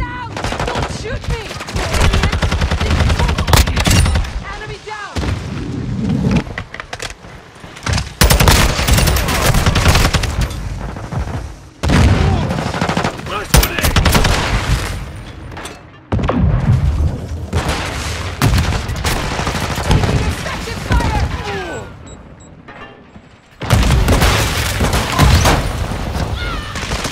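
Call of Duty: Modern Warfare 2 gunfire: loud, dense bursts of automatic fire and booms in long stretches broken by short pauses, with in-game voices now and then.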